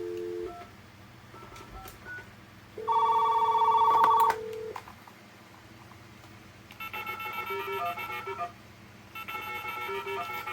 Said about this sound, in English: I'll just call it from an analog phone so I can actually hear the.